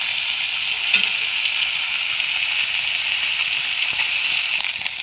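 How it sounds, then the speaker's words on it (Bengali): Tilapia fish frying in hot oil gives a steady, dense sizzle that fills the whole stretch at an even, close level, with a couple of faint pops and clinks and no talking. "আমি মাছটা ভেজে নেব এইভাবে করে।"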